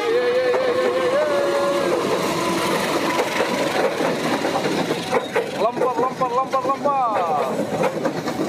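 A commuter train arrives from the Pasar Senen direction on a busy line, its rumbling engine and wheel noise steady and close, rising into rhythmic clatter near the end, with people talking over it.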